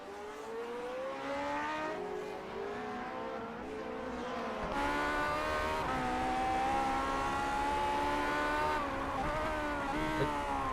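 Vintage Grand Prix Legends race cars in iRacing at Imola scream past with high, steady engine notes, several cars layered and rising through gear changes, loud and continuous without any talk.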